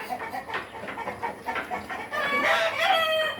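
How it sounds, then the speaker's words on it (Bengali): Fayoumi chickens on a poultry farm cluck and chatter close by, several birds overlapping in a steady run of short calls that grows louder and more tonal toward the end, with no talking. "এগুলো আমাদের দ্বিতীয় ব্যাচের এই ফাউমি।"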